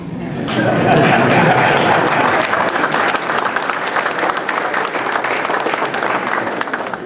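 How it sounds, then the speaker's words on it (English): An audience at a Dallas city hall meeting breaks into loud, sustained applause, a dense wash of clapping that swells quickly and holds steady for several seconds. "And I applaud Mr. Carraway."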